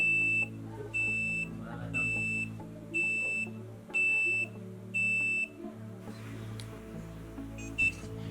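Repeated electronic alarm beeps sound from the buzzer of an Arduino Uno RFID door lock. Regular, evenly spaced pulses come about once per second over a low background hum, then a brief final chirp.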